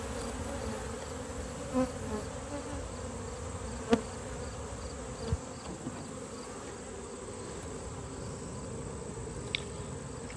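Honey bees buzz in a constant low drone, many insects humming together at close range around an open hive, with a few faint clicks and taps.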